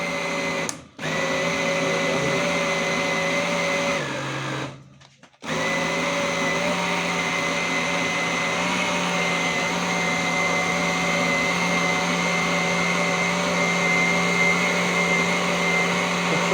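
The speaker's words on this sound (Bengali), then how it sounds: "এটা হচ্ছে ব্লেন্ডিং এর ব্লেডটা ঘোরানো।" An electric blender's blade spinning at a cooking event, a loud, steady motor whine that cuts out briefly twice and then resumes at full strength.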